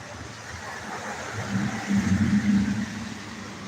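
A car pulls up nearby, its mid-pitched engine rumbling steadily and swelling briefly as it arrives, then settling back toward idle over a broad outdoor background hiss.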